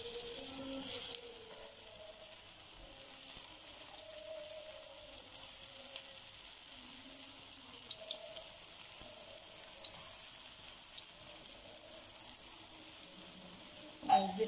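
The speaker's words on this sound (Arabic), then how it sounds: "شفنا واحنا بنقلي وبنحطه في الشربات" Qatayef pastries frying in hot oil give a steady, faint sizzle and bubbling that runs throughout, with a brief louder clatter near the end.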